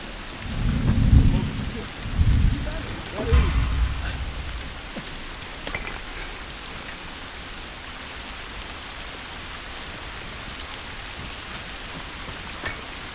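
Heavy rain pours steadily in The Last of Us while rolling thunder booms several times near the start, then the downpour continues alone as a dense, even hiss with faint scattered patter.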